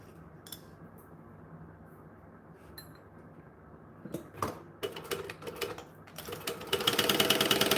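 Top stitching on a sewing machine begins after a quiet stretch with a few light clicks, building into a fast, busy mechanical whir toward the end, fairly close and without talk.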